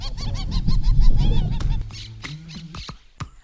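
Geese honk in a loud, rapid chorus of overlapping calls, then thin out into a few scattered honks and squawks at close range.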